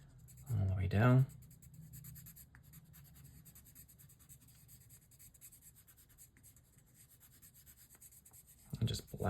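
A pencil shades curly hair on paper with the side of its lead and varying pressure, giving a quiet, continuous scratchy rubbing. It is framed by short, louder bursts at the start and the very end.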